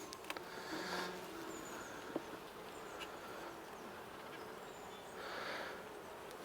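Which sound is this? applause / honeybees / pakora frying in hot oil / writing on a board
honeybees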